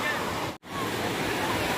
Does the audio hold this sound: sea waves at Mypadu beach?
yes